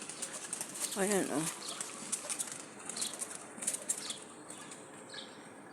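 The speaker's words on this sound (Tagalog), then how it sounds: "May ibon na naman dito sa loob ng garden ko." A bird trapped inside a garden enclosure flaps its wings in a brief burst, over a hiss of outdoor noise with faint chirps, while someone speaks briefly nearby.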